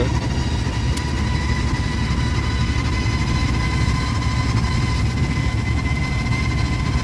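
An auto rickshaw engine runs steadily in first gear on the Mumbai–Goa highway near Sangameshwar after rain, a continuous low droning rumble with vibration, close and constant and free of speech.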